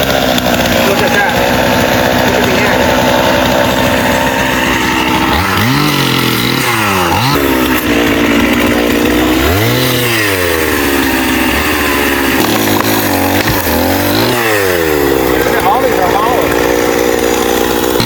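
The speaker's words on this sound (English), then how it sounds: "Rachel and her boyfriend were trimming trees with a chainsaw." A chainsaw trimming trees runs loud and continuous, its engine repeatedly revving up and dropping back toward idle in uneven surges, with outdoor noise throughout and no clear talk.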